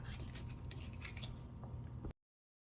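Knife slicing salad vegetables on a cutting board, a quick run of close, crisp cuts and scrapes that stops abruptly into silence.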